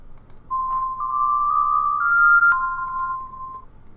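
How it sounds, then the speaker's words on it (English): A single sustained synthesized note played through the Sweet Verb reverb preset in Reaper, a clean tone that shifts slightly in pitch and then fades with a lingering echoey tail. "after the note stops, it carries on for a little bit. It sounds very echoey"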